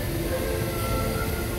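Steady low rumble of a train inside a New York subway station, a continuous broadband roar of rail cars filling the space at even loudness throughout, with no voices.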